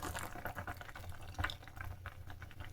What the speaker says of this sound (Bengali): আরও কিছুটা দুধ ঢেলে দিলাম